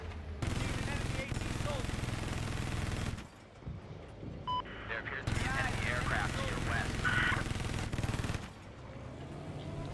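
Heavy rapid anti-aircraft cannon fire in Battlefield 4 roars in sustained bursts with brief pauses, loud and continuous, with mechanical clatter and a few electronic tones mixed in.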